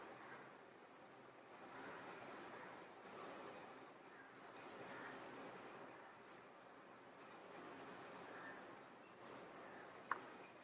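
Pencil strokes scratching across paper while shading an ornate square Zentangle pattern, a steady soft scraping in repeated bursts with a few sharper ticks near the end, close and alone.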